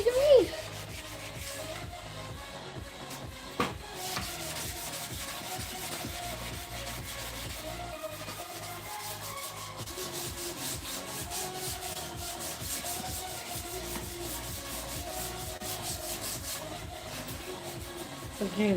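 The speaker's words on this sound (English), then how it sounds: "normally you wouldn't have to sand this far back" Surface being sanded back during prep work, a steady rhythmic scrubbing of abrasive strokes running continuously and fairly close, with a few brief knocks and no talking over it.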